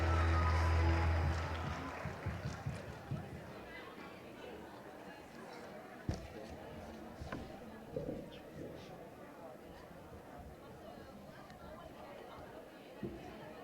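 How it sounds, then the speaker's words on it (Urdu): A hall audience at a formal gathering claps briefly at the start, then the applause fades into murmuring chatter, shuffling and occasional knocks, with a voice speaking later. "بھرپور تالیاں"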